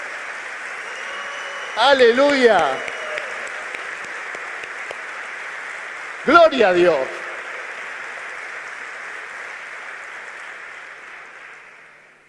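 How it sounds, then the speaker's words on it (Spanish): Church congregation applauding during a sermon, a steady broad wash of clapping filling the room throughout, while a voice shouts out praise twice over it. "Denle un aplauso."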